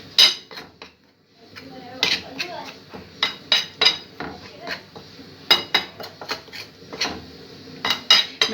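Metal utensils clink and scrape against a dish as food is mixed, a series of sharp irregular taps and scrapes, close and fairly loud, with quiet gaps between bursts.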